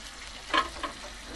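Water poured into a pot of broccoli and cauliflower, a faint hissing sizzle with two short bursts over low background noise, brief and alone.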